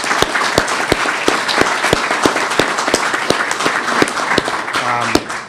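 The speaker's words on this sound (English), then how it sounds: "I would just ask everybody to join in a round of applause for Helena and all the work that she does." An indoor audience at a citizenship ceremony applauds, dense, loud clapping from many hands with a few sharp close claps standing out, sustained for several seconds before easing off.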